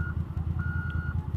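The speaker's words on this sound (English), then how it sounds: "Hopefully you guys can hear me over all this construction equipment." Construction equipment backing up, with its reversing alarm giving steady repeated beeps over a low rumbling engine drone, moderately loud and continuous.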